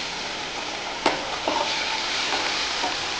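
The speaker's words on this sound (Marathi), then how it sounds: "गाजर, साखर आणि लिंबाचा रस टाकून परत आपण 1-2 मिनिटं आपण याला छान परतून घेऊ." Grated carrot with green peas, sugar and lemon juice is sautéed in a pan, giving a soft steady sizzle broken by a few sharp spoon scrapes and stirring knocks, with no talk.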